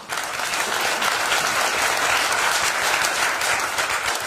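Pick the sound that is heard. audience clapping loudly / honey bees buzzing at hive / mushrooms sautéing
audience clapping loudly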